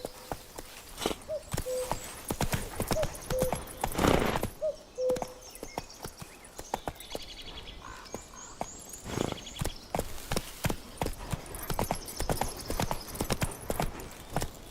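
Hooves of a horse galloping in The Witcher 3 pound in a fast, sharp, repeated clip-clop rhythm, loud and close, over quieter game ambience and occasional faint tones.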